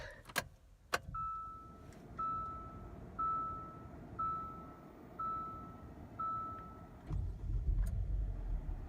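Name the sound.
SUV engine starting and idling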